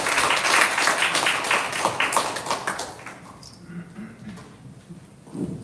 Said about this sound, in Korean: 박수로 함께 맞아주시죠.